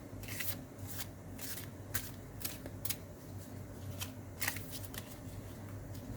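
Goddess tarot cards are shuffled in quick riffling bursts, a steady run of crisp papery flutters repeating every half second or so over a quiet background hum.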